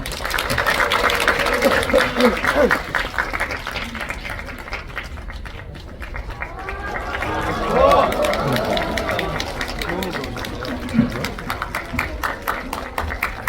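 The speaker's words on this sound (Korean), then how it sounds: "많은 박수 주세요" An audience claps at a film premiere stage greeting in a Megabox COEX cinema hall, steady applause of a large seated crowd that swells, dips and swells again, with a host's voice and scattered chatter over it.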